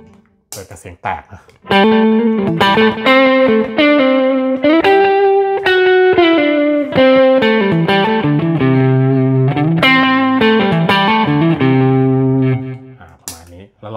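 A distorted electric guitar runs through a 1990 Japanese blue-label Boss DD-3 digital delay pedal set to a long 800 ms delay, playing a loud, sustained melodic phrase with trailing repeats.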